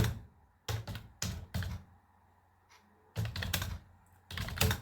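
Fast typing on a computer keyboard while C code is written, coming in short bursts of rapid clicks separated by quiet pauses, close and fairly soft, with no talking.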